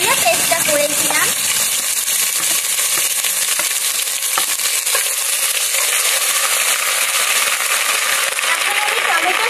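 Spice paste for a country chicken roast fries and is stirred in a pan, a loud continuous sizzle with scraping and stirring noises close up, steady throughout.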